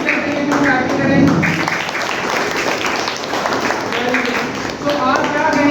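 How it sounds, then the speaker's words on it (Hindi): Schoolchildren keep up steady, dense applause for their teacher, a loud continuous patter from a crowded room with some voices blended in. "अपने टीचर के लिए भी क्लैप करें"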